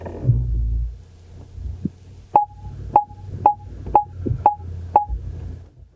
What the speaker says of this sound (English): All this bloody pinging, I feel like a sonar operator on a submarine.